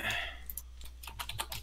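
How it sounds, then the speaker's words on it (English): Quick, light taps on a computer keyboard patter in an uneven burst of clicks, close and fairly quiet over a low steady hum. "you hear all this typing away"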